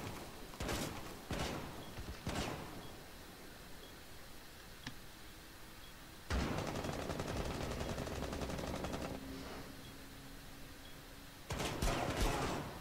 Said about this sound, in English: He's trying to shoot through this wall